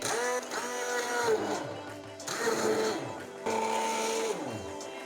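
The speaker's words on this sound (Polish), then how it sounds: "I teraz będę ją blendować." Blender puréeing a creamy zucchini and chicken keto soup, its motor whining in three loud bursts with short pauses between them.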